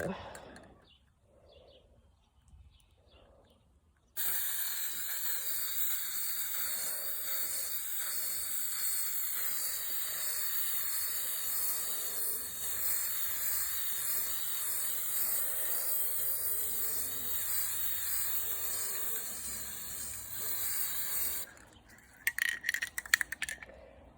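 An aerosol spray paint can lays a first coat on metal house numbers: a long, steady, close hiss of about seventeen seconds that starts abruptly after quiet and ends in a few brief rattling clicks.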